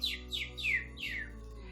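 A small bird sings four quick descending chirps in a row, clear and fairly close, over a low steady hum with no talk.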